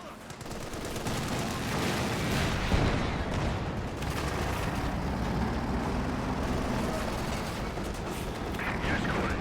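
Rolling battlefield din from a Company of Heroes 2 match: a sustained mortar barrage with dense, overlapping blasts and gunfire at steady loudness, mixed with engine rumble and possible faint voices.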